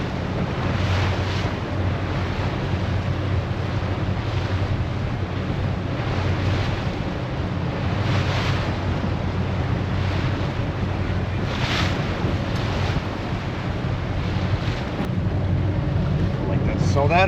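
Wind and waves on the Lake Michigan shore make a steady, loud, broadband rush with low rumbling surf and gusty wind buffeting the microphone throughout, with no pause.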